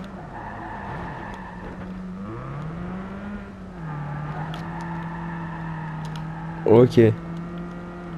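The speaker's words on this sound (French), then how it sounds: "on entend le vrombissement de la voiture" A steady car engine drone in the video game Watch Dogs 2 hums throughout, rising and dipping in pitch like revving, with a short burst of louder noise near the end and a brief spoken word.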